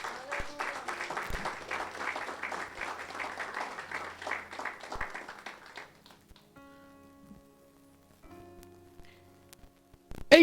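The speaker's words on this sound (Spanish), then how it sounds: "Dele un fuerte aplauso a nuestro Dios." A church congregation claps during a sermon, moderate applause for several seconds that fades out, followed by quieter sustained tones and room sounds.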